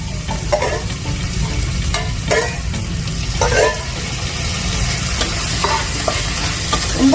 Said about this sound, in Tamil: இந்த ஸ்டேஜில் வந்து நம்மளோட ராஜ்மா ஆட் பண்ணிக்கலாம்.